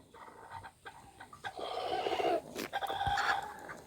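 Chickens clucking and squawking in a busy flock, with scuffling and a few sharper calls rising over steady background noise.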